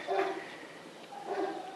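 Bulldog puppies from a breeder's newborn litter whimper and yelp in two short bursts, soft and close, with no talking.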